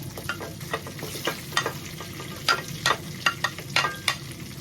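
Onions and three bay leaves hitting hot oil in a pot for a one-pot chicken rice, a continuous sizzle with scattered sharp crackles and spoon scrapes at an irregular rhythm.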